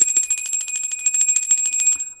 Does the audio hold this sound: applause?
no